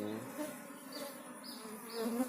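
Asian honey bees (Apis cerana) buzzing as a colony is moved into a small minimalist hive box, a steady close hum with rising and falling swells throughout and no talk.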